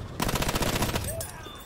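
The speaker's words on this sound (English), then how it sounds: "The SMG08 is destroying me today." An SMG08 submachine gun fires in Battlefield 1, a rapid, evenly spaced burst of about a dozen loud, close shots that stops abruptly, followed by fainter battlefield noise.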